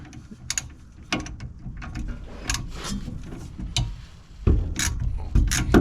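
Drive shaft bolts being loosened on a Holden VY ute during rear bearing and bush replacement, with repeated ratchet clicks, short metallic clanks and tool handling close by, irregular and moderately loud.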